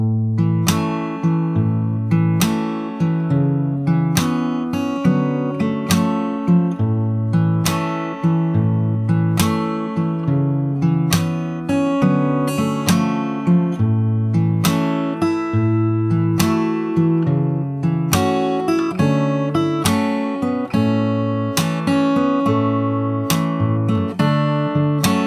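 Fingerstyle acoustic guitar plays the verse, a steady picked bass and chord pattern with regular strummed accents, close and full throughout with no talking.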